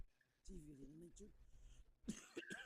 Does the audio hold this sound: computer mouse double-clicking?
no